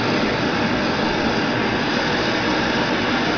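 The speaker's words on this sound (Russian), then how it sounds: "Включаем горелку" A gas torch burner roars steadily and loudly for melting gold, a dense continuous blast of flame noise with no break throughout.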